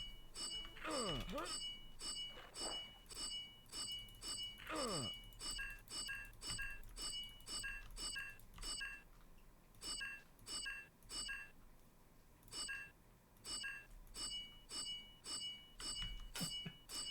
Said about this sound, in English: It's like a bell ringing or something.